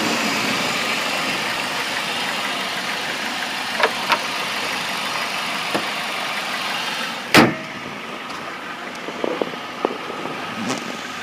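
A 2001 Dodge Stratus SE sedan idles steadily and close by, a continuous engine drone with a sharp knock partway through and a few faint clicks.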